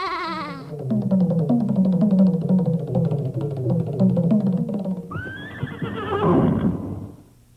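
A horse in a storybook scene lets out a long, loud whinny over rhythmic galloping clip-clop, then a second rising neigh near the end that fades out, heard alone without speech.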